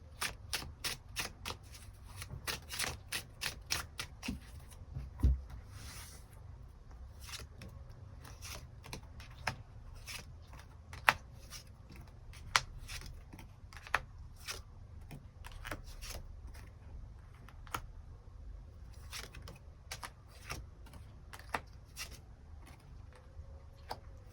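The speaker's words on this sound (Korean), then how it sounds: "추가 카드 뽑아보도록 하겠습니다" Tarot cards shuffled and drawn by hand, giving a long run of soft, quick riffling flicks and taps, close and fairly quiet, with a few sharper snaps scattered through and no talking.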